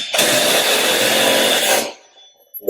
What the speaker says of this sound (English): We'll run those screws in it.